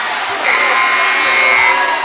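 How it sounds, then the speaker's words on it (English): The Catoctin crowd cheers at a sports game in a dense, continuous roar that swells slightly over two seconds, with voices mixed into the noise. "Right in front of the Catoctin crowd, they love it."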